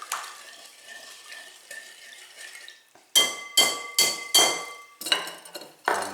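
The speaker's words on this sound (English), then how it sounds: "Give that a quick whisk." Dry dough ingredients with a teaspoon of salt whisked in a bowl for hand-kneaded cinnamon rolls: a soft scraping rustle at first, then six or so sharp, close clattering strokes of the whisk against the bowl, with no talk.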